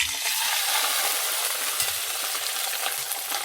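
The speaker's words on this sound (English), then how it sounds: "The pan is really hot, so I need to put the fish" Sea bass fries in a hot oiled pan, a loud, steady crackling sizzle that fills the whole stretch with no pauses and no talking.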